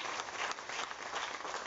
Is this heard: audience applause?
yes